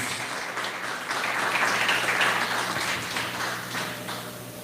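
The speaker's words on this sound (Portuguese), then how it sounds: "Uma salva de palmas ao nosso Deus." A church congregation claps during a Sunday evening service, a sustained wash of applause that swells in the middle and then eases, with faint voices mixed in.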